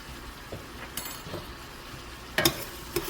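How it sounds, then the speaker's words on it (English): A spoon stirs sauce in a soup pot, giving a few scraping, clinking strokes over a low, steady simmering hiss, close and fairly quiet, with no talking. "Give this a stir and give this about a minute as well"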